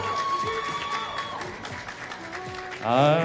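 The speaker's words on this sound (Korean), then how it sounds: "여러분 더욱더 큰 박수로 맞아주시면 감사하겠습니다" An audience at a Korean TV drama press event applauds as the director is welcomed onto the stage, with steady clapping under a voice and background music.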